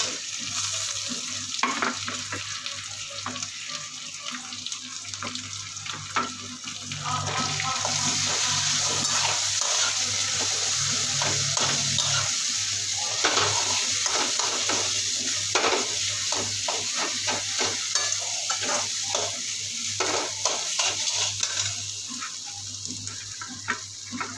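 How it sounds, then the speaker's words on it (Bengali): Onions and green chillies frying in oil in a pan, with potatoes added, producing a steady close sizzle with scraping stir strokes that grows louder partway through and continues without speech. "পেঁয়াজ লঙ্কাগুলো ভাজা ভাজা হলে আলুটা দিয়ে দেব"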